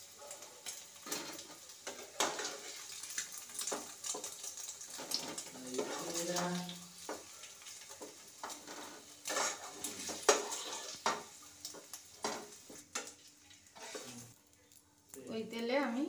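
Capsicum frying in oil for a veg paneer masala, with sizzling hiss, clinks of a pan and stirring scrapes, close up, interspersed with someone talking over much of it.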